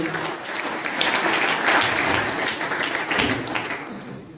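A crowd at a school orientation program applauds loudly and continuously for several seconds, a dense, even patter of many hands clapping that tapers slightly at the end.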